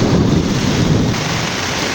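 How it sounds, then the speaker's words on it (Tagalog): Low thunder rumbles beneath a loud, steady roar of heavy rain during a lightning storm, filling the whole moment with dense noise. "Kumikidlat at kumukulog."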